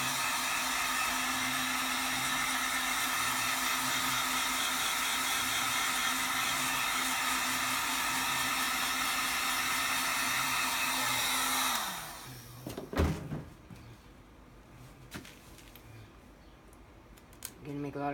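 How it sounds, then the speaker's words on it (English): A heat gun blows a loud, steady broadband roar with a faint motor hum across an acrylic paint pour for about twelve seconds, then cuts off, leaving quiet handling noises and a few soft knocks. "I think I'm gonna use my heat gun."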